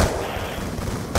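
Shotgun blasts from the Black Ops 2 Zombies video game, loud dense bursts of gunfire filling the moment with a sharp hit at the end, no talk.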